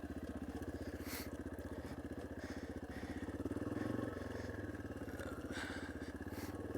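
A Yamaha XT250 dual-sport motorcycle chugs slowly over a rough, rocky trail in northwest Alabama, its single-cylinder engine pulsing steadily at low revs with a brief swell midway and scattered clatter and crunch from the terrain.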